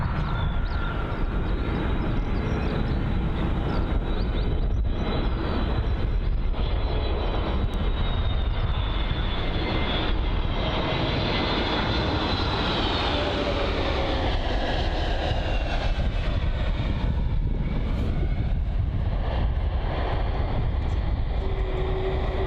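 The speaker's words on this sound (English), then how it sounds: "A nice and smooth touchdown there from the A321neo." An Airbus A321neo lands on runway 09 at Bristol Airport, its loud, continuous jet engine roar close by and shifting in pitch as it passes and touches down.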